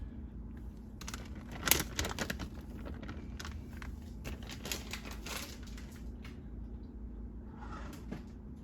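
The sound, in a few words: aluminum foil crinkling as it covers a baking dish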